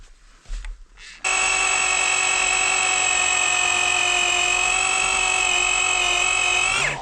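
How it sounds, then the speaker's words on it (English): A handheld drill spinning up after a brief bump and running at a steady high-pitched whine, loud and continuous until it winds down at the end. "this is so hard to hold the drill"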